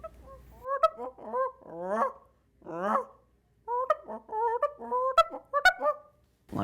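A person imitates a Canada goose feeding in the air with a goose call, producing a loud, close series of rhythmic honks and clucks in quick bursts with short breaks between them.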